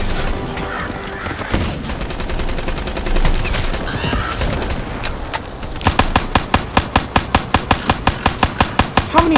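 Rapid gunfire in Call of Duty: Black Ops 3, opening as a chaotic mix of shots and noise, then settling into a loud, evenly spaced series of single shots fired in quick rhythm.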